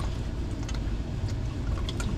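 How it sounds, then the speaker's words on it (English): Transmission fluid from a Kia Soul, drained during a fluid and filter change, runs and drips steadily into a catch pan with a continuous liquid wash and a few brighter drip splashes, close up and without speech. "it drips off of the transmission as you're doing this"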